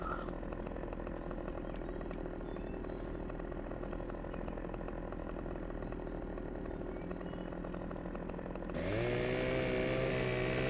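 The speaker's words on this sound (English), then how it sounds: "Chainsaw time." Chainsaw cutting in Farming Simulator 2015, a steady loud buzzing drone running throughout, the engine pitch shifting and rising near the end as the saw revs harder, with no talking.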